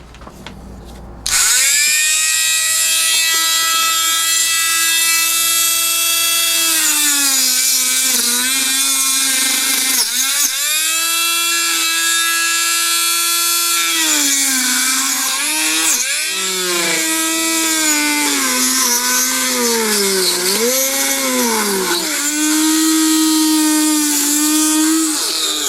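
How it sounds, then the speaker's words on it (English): A cutoff wheel grinds through the plastic airbox of a Honda motorcycle, a loud whining tone that dips and rises in pitch as the blade bites and eases, running continuously for about twenty-five seconds with no talk. "follow all the way around it with our cutoff wheel, and remove this whole top piece of the airbox"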